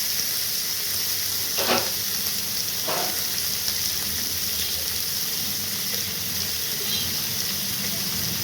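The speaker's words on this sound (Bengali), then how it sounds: "এই কপির ডাঁটগুলো সব কেটে সিদ্ধ করে রেখেছিলাম, সেইগুলো আমি ভাজবো।" Steady, loud sizzling of boiled cauliflower stems frying in a pan, with two brief scraping stirs early on and an even crackle throughout.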